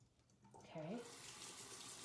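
Water runs from a bathroom sink tap during a face shave, a steady hissing splash that starts abruptly after a brief voice and continues close and fairly loud to the end.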